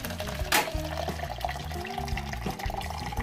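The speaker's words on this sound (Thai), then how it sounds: "เสร็จเรียบร้อยก็เทน้ำลงไปก่อน" Water poured into a glass for a blue lemon shake made from blue lemon syrup and plain water, a steady splashing and trickling stream with a brief louder burst near the start, close and continuous for a few seconds.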